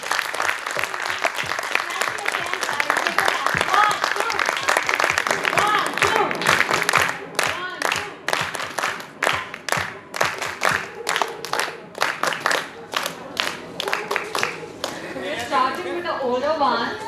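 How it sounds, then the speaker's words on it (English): An audience applauds a children's stage performance, dense clapping filling the room at first and then thinning into scattered separate claps, with voices talking near the end. "A huge round of applause for them."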